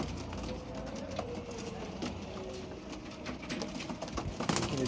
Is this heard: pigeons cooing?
yes